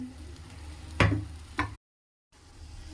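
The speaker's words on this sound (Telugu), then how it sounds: "ఇది ఆయిల్ తేలేంత వరకు ఫ్రై చేసుకుందాం." Bitter gourd pieces frying in oil for kakarakaya ulli karam, a steady low sizzle broken by two sharp stirring clacks, then a brief silent gap before the frying resumes.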